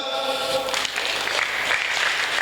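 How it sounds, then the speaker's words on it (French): Audience at a Sunday church sermon breaks into brief applause, dense clapping filling the room for a couple of seconds, with a voice trailing off at the start. "On acclame."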